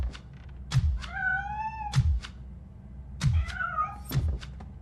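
A cat in the game RoboCop: Rogue City lets out two drawn-out, wavering meows, close and clear. Each is framed by soft thumps and clicks, and there are short silent gaps between them.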